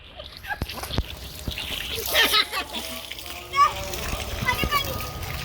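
Water splashes and trickles in short bursts while someone talks and other voices chatter nearby, with a dog barking at moments.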